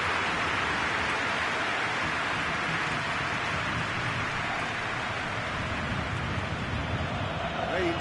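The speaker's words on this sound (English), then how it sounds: "Rain starting to fall here." Rain falling during a PES 21 football match simulation: a steady, dense hiss of rain that continues evenly throughout, with no breaks.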